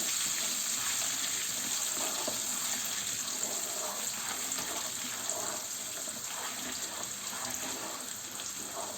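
Steady crackling sizzle of vermicelli and rice frying in hot solid and liquid fat for rice pilaf, continuous and fairly loud throughout with no talking.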